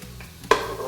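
Onion and garlic sauté in a pan, giving a soft sizzle that jumps into a sharper hiss as the garlic goes in halfway through, with a brief stirring scrape.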